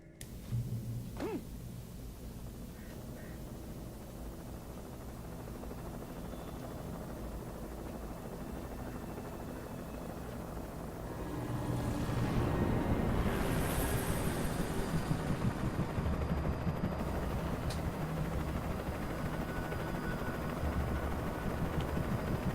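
A helicopter in the video game Alan Wake: a steady broadband rotor wash that swells louder about halfway through and holds close and heavy to the end, with no voices.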